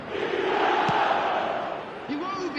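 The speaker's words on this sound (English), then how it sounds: "Now the crowd are demanding that they just finish this off." Stadium crowd in the eFootball video game, a broad sustained roar of cheering and chanting that swells steadily with no break, heard at a distance.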